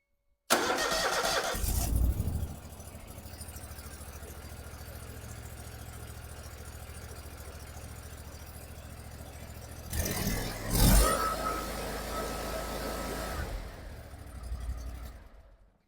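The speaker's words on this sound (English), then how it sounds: "Now we're going to start the mower up, and we should see an increase in volts." A zero turn mower engine cranks and catches, then runs at a steady idle before surging louder and settling again near the end, heard close by.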